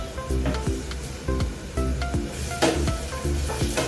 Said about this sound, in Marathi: आता मी त्याच्यामध्ये टोमॅटो टाकले